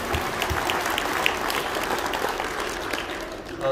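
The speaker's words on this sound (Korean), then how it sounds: "여러분 박수로 맞이해주시면 감사하겠습니다" Banquet guests at a hotel eightieth-birthday celebration applaud in a sustained, even round of clapping heard from within the room.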